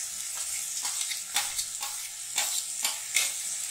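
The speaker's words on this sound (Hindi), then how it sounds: "तो टमाटर सॉफ्ट होने तक हम इसे प्याज के साथ भूनेंगे।" Chopped tomatoes frying with onions in a pan, a continuous hiss of sizzling broken by regular scraping stirs about every half second, close and alone.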